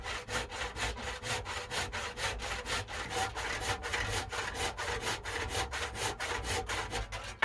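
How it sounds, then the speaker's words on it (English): A handsaw cuts through a wooden tabletop in a long, even series of rhythmic back-and-forth rasping strokes, close and loud, with no voices. "to use a handsaw on this table"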